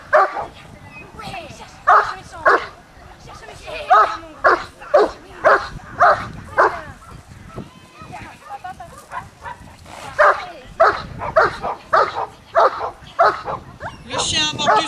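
A young dog tugs and plays with a rag at a club fête demonstration, giving repeated short yips and barks in rhythmic bursts close by, with people talking at times.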